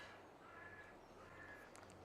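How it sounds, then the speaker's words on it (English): Crows caw faintly in the distance over a steady low hum while a vehicle drives across fenland farm country in Farming Simulator 22. "Those crows are bloody annoying."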